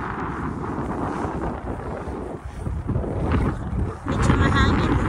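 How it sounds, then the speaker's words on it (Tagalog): Strong wind buffeting a microphone outdoors beside a lake, a continuous loud rumbling roar that gusts louder near the end, with a person speaking under it. "Medyo mahangin, nililipad ako ng hangin."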